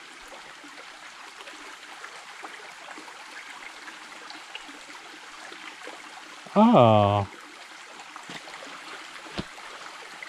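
A Catskills stream flows in a soft, constant trickle and babble close by, with a short exclaiming voice breaking in midway.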